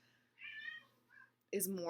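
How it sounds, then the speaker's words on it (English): A cat indoors gives a drawn-out meow followed by a shorter, fainter one, fairly quiet, then a person starts speaking loudly close by. "this cat is driving me nuts"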